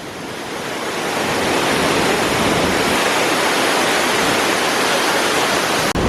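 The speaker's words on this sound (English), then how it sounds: "the consequences of going underneath the waterfall" A waterfall in Romania roars as a dense, continuous broadband rush, loud and close as if from right at its base, steady throughout with no voices.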